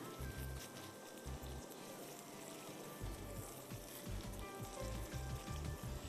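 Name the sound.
roasting oatmeal in ghee for halwa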